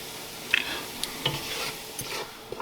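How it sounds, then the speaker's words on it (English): Crispy bacon is lifted out of a sizzling frying pan, with scraping and clinking utensil touches over a steady fry, all close and without voices. "now that my bacon is pretty crispy, we're going to remove it from the pan and set it aside"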